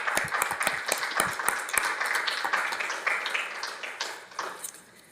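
A small audience at a neighborhood council general membership meeting claps in appreciation: sharp, distinct claps at first that blend into brief applause, then taper off and fade out toward the end.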